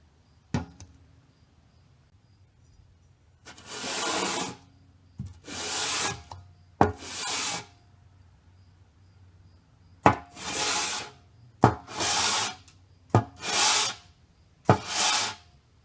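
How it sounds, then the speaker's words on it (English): A motorcycle cylinder head from a 1985–1988 Honda ATC250R/CR250R is sanded flat by hand, heard as about eight rhythmic rasping back-and-forth strokes, each a loud scratchy burst separated by short pauses and faint knocks. "You'll just have to keep sanding it down until it's all cleaned up."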